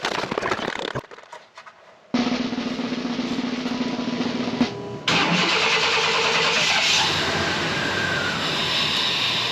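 A 1994 Chevy S10 engine that has just had new plugs, wires, cap, rotor and coil cranks and fires. Loud, raw engine noise cuts out briefly, catches again, then surges into a steady, rough-sounding run.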